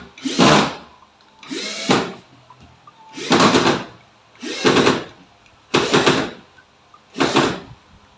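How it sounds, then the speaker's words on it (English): A power screwdriver drives screws during bathroom DIY work in six short, loud whirring bursts at a steady pace, with quiet pauses between them. "We finish it with a screwdriver."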